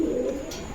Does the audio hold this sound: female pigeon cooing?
yes